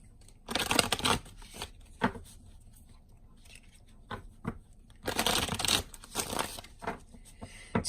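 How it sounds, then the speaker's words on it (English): Tarot cards being shuffled by hand in several crisp, riffling bursts separated by pauses, with lighter taps and rustles in between. The sound is close and there is no speech. "I'm going to go ahead and shuffle the cards"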